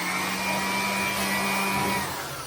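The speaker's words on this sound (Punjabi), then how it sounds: "ਆਪਾਂ ਬਲੋਰ ਮਾਰ ਕੇ ਚੰਗੀ ਤਰ੍ਹਾਂ ਫੇਰ ਸਾਫ਼ ਕਰਾਂਗੇ ਮਸ਼ੀਨ" An air blower runs steadily while cleaning out a combine harvester on a farm, a continuous loud whooshing roar with a sustained whine, easing slightly at the end.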